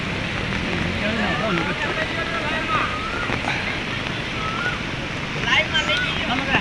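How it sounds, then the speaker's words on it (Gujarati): Heavy rain with floodwater pouring over the top of a full main drain: a steady, dense roar of rushing water fills the whole stretch, with voices talking faintly underneath. "આ મેન નાળું છે પણ એ નાળું છે ને આખું ભરાઈને ઉપરથી પાણી આવે છે"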